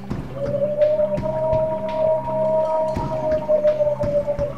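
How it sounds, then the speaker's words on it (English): Bigfoot-like creatures weeping and moaning in the Alaskan wilderness, heard as a long, wavering, tonal wail that holds steady for several seconds over a rumbling, clicky background. "It was the sound of them weeping, moaning, almost as if they were crying for the loss of their family members."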